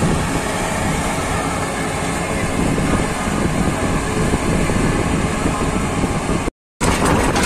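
Strong wind roars steadily across the whole clip as a dense, broadband rush over standing wheat fields, cut off by a brief dropout near the end.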